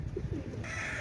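Low, soft cooing from a pigeon of an imported bloodline at a bird seller's stall, a few muffled pulses close by under faint background noise.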